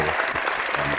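Brief, dense audience applause, loud and close, with a voice speaking over the clapping.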